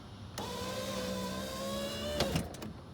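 A 1998-2002 Honda Accord Coupe's electric power window motor runs for about two seconds as a steady whirring hum, then ends in a couple of sharp clunks as the glass stops, heard close and fairly quiet.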